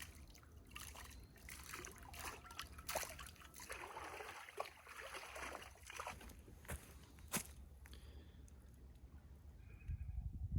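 A pan is rinsed out in a creek. Faint trickling and irregular small splashes come and go over running water outdoors, and there is no talking.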